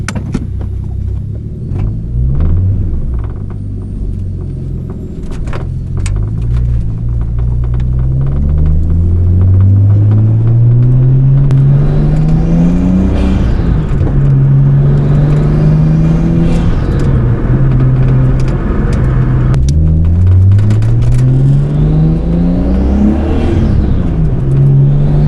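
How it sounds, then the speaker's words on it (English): A Nissan Skyline R32 GTS-T with an RB20 engine and ISR GT straight-pipe exhaust, driving with a loud, raspy engine note that climbs through the gears and drops at each shift, continuous and close with no talking. "this is pure RB noises, driving, Skyline action, no talking."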